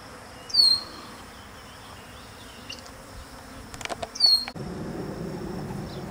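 Honey bees buzz around a hive entrance in an outdoor apiary, a few brief passes of faint buzzing rising and fading over a quiet background, followed by a steadier low rumble near the end.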